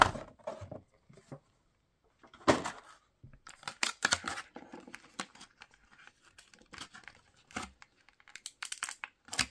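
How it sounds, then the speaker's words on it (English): Cardboard and plastic packaging of a Star Wars action figure is torn open by hand in short bursts of ripping and crinkling, with quiet gaps between, close and fairly soft. "I am just going to rip it open just like that."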